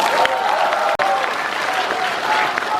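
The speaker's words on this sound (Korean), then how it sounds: "박수 이때 쳐야 돼요." Applause from an audience at a political forum in Korea, a steady dense burst of clapping that fills the room for a few seconds, loud and close, with a brief cut partway through.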